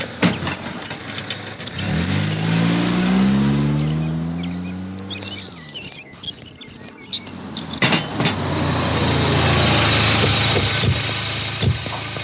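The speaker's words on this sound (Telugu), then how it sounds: "లారీ సౌండ్ వచ్చింది." A lorry pulls up, its engine rumbling with rising and falling harmonics, then idling steadily near the listener; a high whine and bird-like chirps sit above, with no talk.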